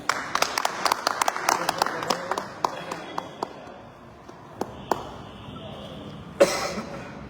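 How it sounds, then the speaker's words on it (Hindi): An audience at an AWPL gathering in Ghazipur claps in a brief burst of sharp, uneven claps that trails off into scattered ones and a quieter room with a soft voice and a bump. "जोरदार ताली"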